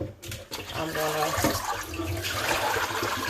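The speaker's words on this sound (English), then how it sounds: "drain that water off." Water drains off cooked shrimp into a bowl, a close, splashing and gurgling pour lasting a few seconds, with a brief clink near the start.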